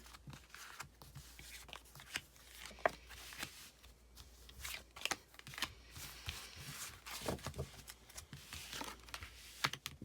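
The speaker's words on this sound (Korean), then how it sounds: "카드는 제가 섞어놨고 그대로 셔플을 해서 뽑아보도록 할게요" Tarot cards are shuffled by hand in a quiet room, giving soft, irregular papery flicks and riffles with no talking.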